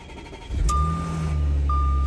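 A 2015 Audi S5 fires up with a sudden low rumble that settles into a steady idle, while a high electronic chime beeps twice over it.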